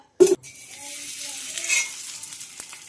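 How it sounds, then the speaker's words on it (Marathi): A vada pav potato tikki is laid into a shallow film of oil and sizzles. A sharp clatter comes first, then a soft, fairly quiet frying hiss continues for a couple of seconds. "आपण आता एक एक टिक्की यामध्ये फ्राय करून घेऊया"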